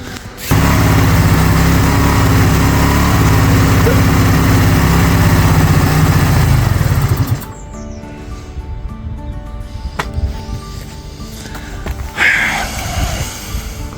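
A rebuilt Honda C90 motorcycle engine after carburettor adjustment runs loud and steady at a fast idle for about seven seconds, then drops to a quieter, uneven idle with faint knocks and rattles.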